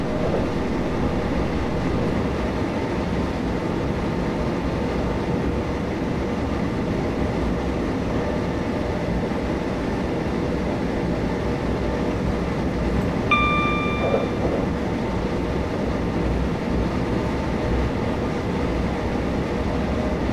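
A train runs on the London to Brighton line in Train Simulator 2015, with a steady, loud rumble of wheels and motors throughout and a short tonal whine partway through. No one speaks.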